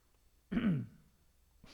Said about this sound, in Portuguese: Deu uma tossida aqui.